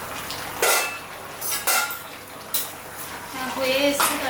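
The lid comes off a cooking pot of jackfruit and egg curry, giving several close metallic clatters and scrapes against a soft simmering background, with a voice speaking briefly.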